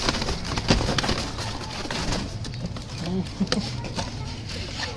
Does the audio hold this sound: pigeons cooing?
yes